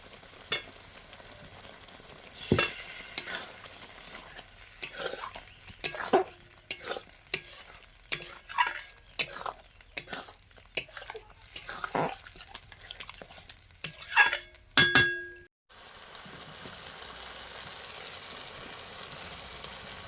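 Masala for a homemade chicken curry is stirred and fried in a pan, with repeated scraping stir strokes over a steady sizzle, close and fairly loud, ending in a short hiss before quieter frying continues.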